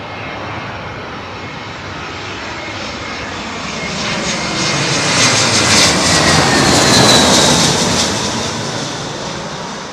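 A British Airways Boeing 747 arrives low overhead at London Heathrow runway 27L, its engine roar swelling steadily to a loud peak and then easing off, with a broad rushing whine and no voices.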